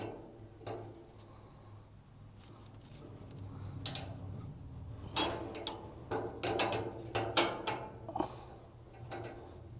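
A wrench backs off the flare nut on the gas line of a Weber Genesis II barbecue, giving quiet metallic clicks and ratcheting taps that come in irregular bursts, busier toward the end.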